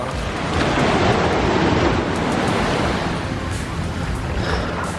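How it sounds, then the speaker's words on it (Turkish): Sea waves wash onto a beach on a Turkish shore, making a continuous broad rushing surf that swells and eases over steady wind noise, close and fairly loud. "Ve deniz suyu böyle cayır cayır geliyor ayağınıza."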